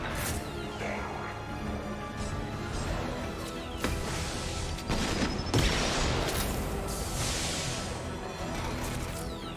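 Sci-fi weapon gunfire from the video game Mass Effect 2, a dense, continuous barrage of shots with crashing impacts and booming blasts, loud and sustained throughout with swelling bursts midway.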